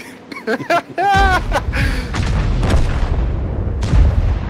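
Artillery shell slamming into a tank in an online tank battle game, a heavy booming impact followed by a rumbling low-end decay, right after brief laughter and talk.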